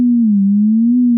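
A steady, pure low sine tone stands for Saturn's motion, holding one pitch with a slight slow waver, loud and alone.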